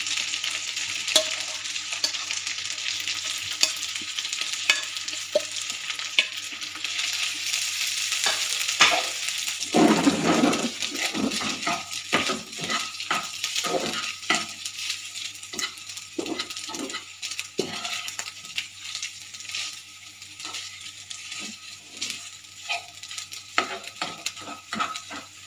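Shredded chicken sizzles and fries in butter in a pan, a steady broadband hiss with repeated scraping and stirring clicks of a utensil, close and moderately loud, with no talking.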